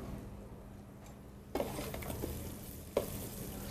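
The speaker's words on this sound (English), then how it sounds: "I'm going to put in a cardamom pod. You can hear it sizzling." Soft, steady sizzling of a cardamom pod frying in a pan, with a couple of light clinks and scrapes partway through.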